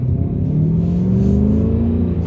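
An LS V8 swapped into a Porsche 944 revs loud and near, a deep throbbing rumble whose pitch rises smoothly and steadily throughout the short burst.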